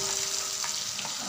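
Ground spice paste hisses and sizzles as it hits hot oil with fried cumin, a steady close frying crackle with a few soft stirring scrapes, no voices.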